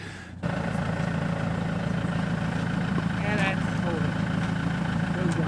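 An overland vehicle's engine, just started first go in a garage, settles into a steady idle after a brief quiet moment, running continuously with a low mid-pitched hum and faint sounds in the background.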